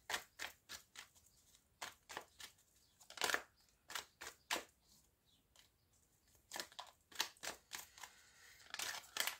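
Tarot cards being shuffled by hand, a soft, quiet series of papery riffles and slaps coming in uneven bursts with short pauses between them.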